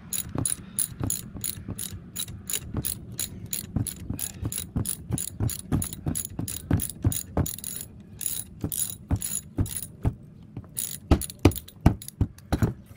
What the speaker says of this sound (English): much easier with the socket wrench